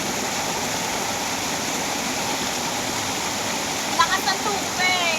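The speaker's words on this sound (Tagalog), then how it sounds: "Lakas ng tubig." Strong rushing water of a stream or waterfall at a swimming spot, a loud steady roaring wash filling the whole clip, with children's voices and speech rising over it near the end.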